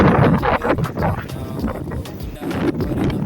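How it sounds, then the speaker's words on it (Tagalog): Gusty storm wind with heavy snow in Hamburg buffets the microphone in loud, uneven bursts, with roaring low rumble and brief flutters throughout. "Nagbabagyo pa, lakas pa ng hangin."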